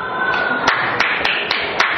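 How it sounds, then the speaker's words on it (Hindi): Sharp claps ring out at a steady, fairly even pace, about five in a row, in a school science lesson on sound, set against a constant background hiss and heard at moderate distance. "अब ताली बजाओ"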